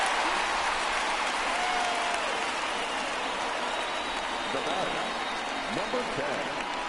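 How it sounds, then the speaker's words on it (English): Baseball stadium crowd in MLB The Show 19 keeps up a steady, enthusiastic roar and applause-like wash in the ninth inning, with a commentator talking over it. "this crowd is still enthusiastic and hopeful that the Sox offense can come through in the 9th inning"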